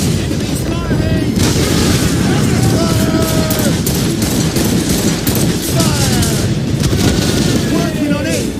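Heavy naval cannon fire from sailing warships in the video game Assassin's Creed Rogue, a dense, loud barrage of booming volleys rolling continuously, with shouted crew voices mixed in.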